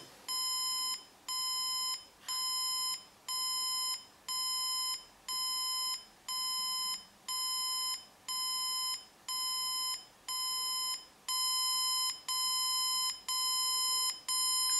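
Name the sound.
alarm clock ringing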